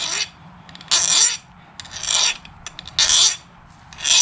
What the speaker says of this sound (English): I'm putting a little bit of bevel on the corners of them,